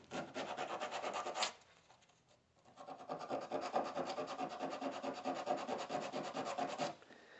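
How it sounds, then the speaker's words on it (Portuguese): Sandpaper scrubs an oxidized contact on a Mercedes-Benz MB 710 starter motor, a dense, rapid back-and-forth rasping that runs steadily, pauses briefly, then resumes for several more seconds up close with no talking. "Pegar uma lixa e dar uma lixada aqui, ó. Para dar um contato perfeito, né?"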